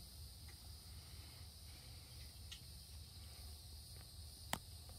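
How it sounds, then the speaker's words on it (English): Crickets and other insects chirp outdoors in a soft, steady high-pitched chorus, faint and distant, with a few small rustles and one brief tap near the end, and no voices. "The bugs are singing."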